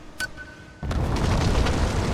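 A sharp pop followed by a deep, sustained booming rumble of an explosion in Rise of the Tomb Raider, loud and close, with no talking.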